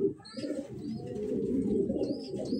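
Pet pigeons cooing steadily and close by, a continuous layered murmur of low coos with a few brighter chirps over the top, with no voices.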